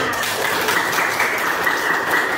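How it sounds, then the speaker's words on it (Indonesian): Schoolchildren clap together in a classroom, a dense, steady burst of many small hands that carries on evenly for a couple of seconds with no talking over it. "beri tepuk tangan"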